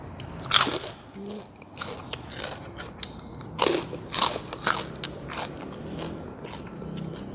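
Crispy pork rinds crackle under several sharp, close bites, with crunchy bursts scattered between quieter stretches of chewing.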